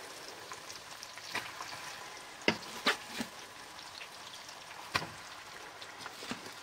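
Pieces of elephant foot yam fry in hot oil for pickle, a quiet sizzling bed broken by several sharp spits and pops at irregular intervals.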